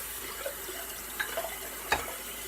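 Tap water running while a shaving lather bowl is rinsed, a soft continuous wash with a few faint splashes and clinks from the bowl, close by and quiet, with no voices.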